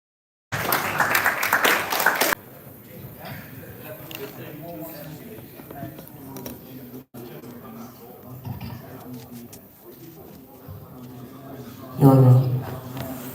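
A live-event crowd claps to welcome a performer onto the stage in a loud burst lasting about two seconds, followed by quieter room noise and a voice speaking.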